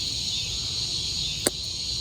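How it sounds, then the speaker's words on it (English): Crickets chirping on a warm summer evening in the South, a steady high-pitched trill that holds through the whole stretch, with one brief sharp click partway through. "Can you even hear me over these crickets right now?"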